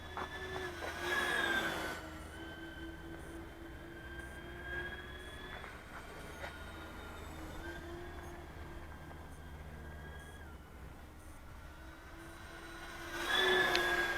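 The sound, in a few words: FlightLine F7F Tigercat RC model plane flying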